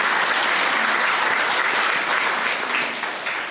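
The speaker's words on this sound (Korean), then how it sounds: "우리 박수로 환영하시도록 하겠습니다." Church congregation applauding at a Sunday worship service to welcome a newly registered member, a dense steady wash of many hands clapping that slowly eases off toward the end.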